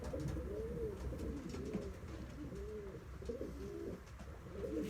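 Soft, repeated pigeon coos sound close by, a series of low burbling calls over faint background noise.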